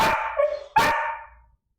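A dog barks twice in quick succession, close and loud, each bark trailing off into a brief whining tail before silence.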